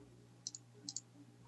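Two quick double clicks of a computer mouse, crisp and close, in a quiet room with faint background hum.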